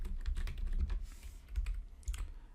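Python test code is typed on a computer keyboard, producing quick irregular key clicks and thuds, close and fairly quiet, with no one talking.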